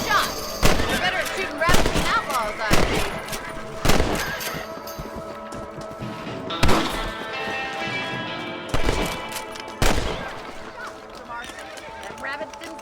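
Gunshots in Red Dead Redemption while hunting rabbits on horseback, loud rifle cracks spaced a second or two apart over game music, hoofbeats and whinnying, with voices talking between shots.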